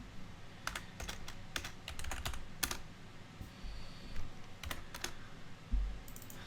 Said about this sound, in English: Just keep typing Control F.